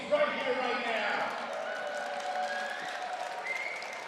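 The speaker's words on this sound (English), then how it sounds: "Crowd getting fired up for this very important match for ICC." Crowd cheering and clapping at a table tennis championship final, a steady wash of applause and shouts from a large audience lasting several seconds, with voices rising within it.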